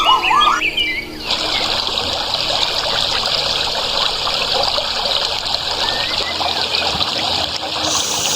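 A small stream flowing toward a waterfall trickles and babbles steadily and close by, with faint bird chirps over the continuous rush of water.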